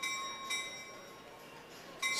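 A bell rung to mark the final lap of a long track speed skating race, with three ringing strikes spaced across the clip, the last loudest, over steady arena ambience.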